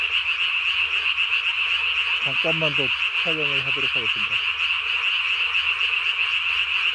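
Night chorus of Korean tree frogs in May: two quick runs of pulsing, ratchet-like croaks sound nearby over a continuous high buzzing drone, and someone speaks a short sentence.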